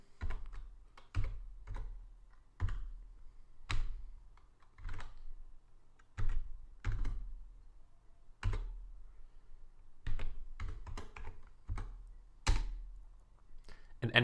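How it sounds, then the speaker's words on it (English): Typing on a computer keyboard comes in short bursts of close, crisp key clicks separated by brief pauses, with occasional heavier thuds like a spacebar or enter press, and no talking over it. "So type in the password that you have received once again."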